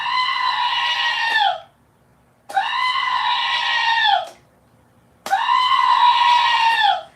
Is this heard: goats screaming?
yes